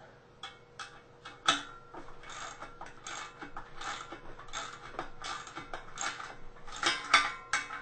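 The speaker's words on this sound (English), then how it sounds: "you can screw that leg bracket on" A socket set drives hardware to fasten a leg bracket on a hammock stand assembled from a kit, producing steady ratcheting ticks and small creaks in a continuous close rhythm with a few sharper knocks.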